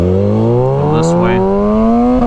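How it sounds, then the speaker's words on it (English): A 2023 Kawasaki ZX6R with a quick shifter revs loudly and close, its engine tone climbing steadily and broken midway by a few sharp pops and crackles from the exhaust. "You gotta love those neutral bangers with a quick shifter."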